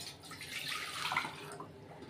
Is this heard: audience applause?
no